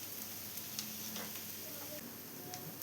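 A dosa sizzles and crackles steadily on a hot pan just after being flipped, a continuous close frying hiss with faint ticks and no talking.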